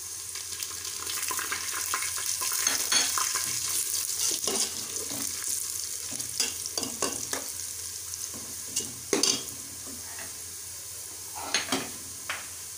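Spices being stirred into golden fried onions for a beef Sindhi biryani, with a steady frying sizzle and scraping spoon strokes that grow sparser and more distinct toward the end, no talking.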